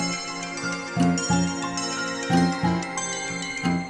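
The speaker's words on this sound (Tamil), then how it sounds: "விஷ்வா ஆன்ட்டியோட ஃபோன் ஏதாவது முக்கியமான விஷயமா இருக்கோ அதான் ஃபோன் பண்ணிட்டே இருக்காங்க" A phone ringing with an incoming call in a Tamil television drama scene, a bright electronic ringtone repeating in short melodic bursts about every second, clear and close with no talking.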